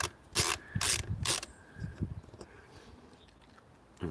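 Screws being backed out of a part on a Mazda MX-5 being checked for a rich fuel system fault, giving a few close ratcheting clicks in quick bursts, then quieter handling noises.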